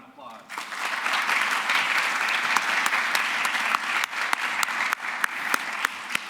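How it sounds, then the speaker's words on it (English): An audience applauds a student winner at a youth entrepreneurship competition. Dense, steady clapping swells in after a brief quiet start and carries on throughout, with a few sharp individual claps standing out near the end. "Give him another round of applause."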